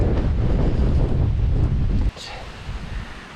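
Gusty tropical storm wind buffets the microphone with loud roaring rumble, then briefly drops away before picking up again more softly.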